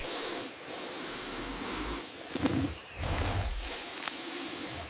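A snake hisses in sustained, breathy bursts of broadband noise that swell and fade, with a brief lower puff in the middle, loud and close with no talking.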